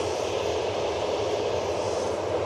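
An airliner's jet engines drone steadily at idle power, a close, even roar with no talk over it, as the plane turns onto the active runway at Manchester Airport.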